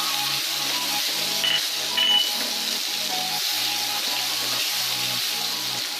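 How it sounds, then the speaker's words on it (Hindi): Green chilies and spices fry in a kadai for an aloo arvi dish, giving a steady broadband sizzle that runs without a break from start to finish, with a low rhythmic pulsing underneath. "थोड़ी देर हम इसे भूनेंगे।"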